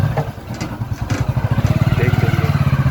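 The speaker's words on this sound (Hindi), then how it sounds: "आज तेरे को सिखाऊंगा बाइक कैसे चलाता हूँ।" A motorcycle engine idles close by, a low steady throb that quickens into a faster rhythmic putter as the bike revs and pulls off.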